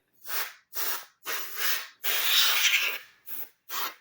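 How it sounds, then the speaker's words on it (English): Canned air blasts dust out of a gaming computer in seven short hissing sprays, each about half a second except one longer burst near the middle, close and fairly loud with silent gaps between. "And you take it and you spray it."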